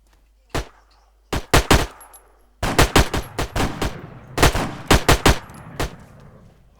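Gunfire in the military video game ARMA 3: several bursts of automatic shots, sharp and close, come in three clusters separated by short gaps, with no talking.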